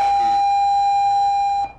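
Campus bell giving one steady, loud electric ring that holds its tone for nearly two seconds and then cuts off abruptly, with no talk.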